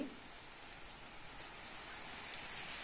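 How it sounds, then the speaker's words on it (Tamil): Steady rain falling outdoors, heard as a continuous soft hiss that keeps an even level throughout, with no voices over it. "இப்போ பார்த்தீங்கன்னா நல்லா மழை வந்துச்சு"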